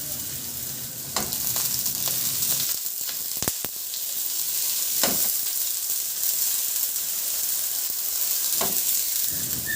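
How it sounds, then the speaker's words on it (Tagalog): Garlic and onion sautéing in hot oil in a kawali, a steady close sizzle and hiss with occasional clinks and scrapes of a spatula stirring, no voices. "Magpainit na ako ng mantika sa kawali at igisa ko na yung bawang."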